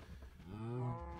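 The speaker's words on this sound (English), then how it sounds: "Cows, you must not escape." Cow mooing in the Minecraft video game, a single drawn-out low moo that swells toward the end, clear and alone without talk.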